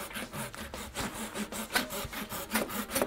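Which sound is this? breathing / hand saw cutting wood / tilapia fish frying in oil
hand saw cutting wood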